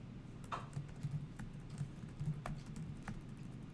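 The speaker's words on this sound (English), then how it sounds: "I'm typing too fast." Quiet clicking of fingers typing on a computer keyboard, with irregular bursts of keystrokes and a few sharper taps, close but faint in a room.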